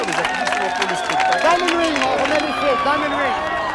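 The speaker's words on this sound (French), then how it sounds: "Et puis des applaudissements pour la nature, des applaudissements pour le spectacle." A crowd reacts just after a total solar eclipse, with excited overlapping voices and scattered clapping rising and falling in a lively, close outdoor din.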